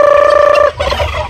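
A farm turkey gobbling up close, one loud, sustained rattling gobble followed by softer trailing clucks; no speech.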